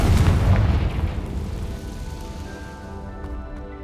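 A blasting-spell explosion from the video game Hogwarts Legacy: a loud, close boom at the start that rolls into a decaying rumble, fading under lingering tonal game ambience.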